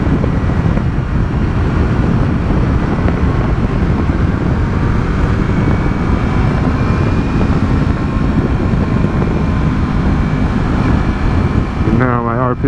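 A motorcycle cruising in fifth gear at about 44 mph gives a loud, steady engine drone blended with heavy wind rush, continuous and close for the whole stretch.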